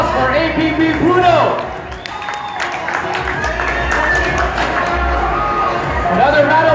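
Spectators applaud a dog named APB Bruno in the ring at an American Bully dog show in Cebu, Philippines, with scattered claps and crowd noise spread through the clip under music and chatter.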